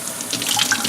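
Goldfish tank items rinsed under a running tap, a steady close rush of faucet water splashing over them with no voices.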